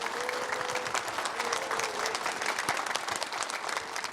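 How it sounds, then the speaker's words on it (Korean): An audience at a citizens' college talk concert in Gwangju keeps up a steady, dense applause at moderate loudness, with faint voices underneath. "여러분 감사의 박수 다시 한번 큰 박수 부탁드리겠습니다"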